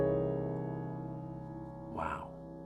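Sustained piano chord rings out and slowly decays, then a low C is struck in the bass around two seconds in, adding a fuller, brighter attack over the lingering tones. Close and clear, with no talking.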